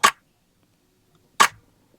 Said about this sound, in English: I got 4 different clap sounds pulled up.